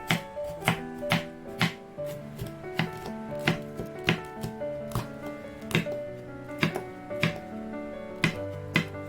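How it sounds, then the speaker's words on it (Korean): Knife chopping carrots and chili peppers on a cutting board, a steady rhythm of close, crisp thuds repeating about twice a second over soft background music. "당근과 고추도 썰고"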